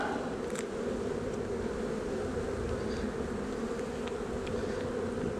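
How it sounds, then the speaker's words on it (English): A dense, continuous buzz of many agitated honey bees during installation of a nucleus hive, close by, steady with no pauses, with no other sounds present. "As you can hear, there's a lot of angry bees."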